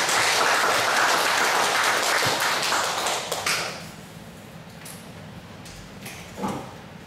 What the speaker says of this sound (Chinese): 请各位再次掌声感谢我们的讲师戴文